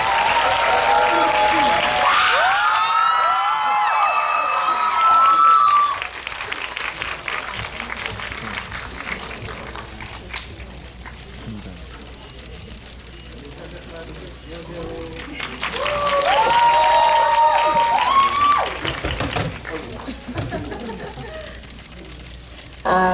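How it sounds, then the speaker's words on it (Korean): A cinema audience at the COEX Megabox talk event for the film Exit applauds steadily as the two lead actors and the director enter, with bursts of high-pitched cheering near the start and again later, for about twenty seconds. "박수로 맞이해주세요."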